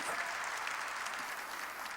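Church congregation applauding during a sermon: steady, dense clapping filling the whole stretch at an even level, no voices on top.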